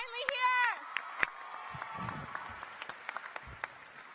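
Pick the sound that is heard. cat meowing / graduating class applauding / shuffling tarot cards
graduating class applauding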